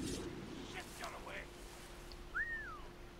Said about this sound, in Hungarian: lehet fütyögni